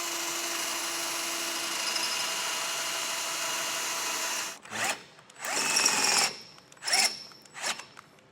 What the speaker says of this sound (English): But we'll start drilling this out.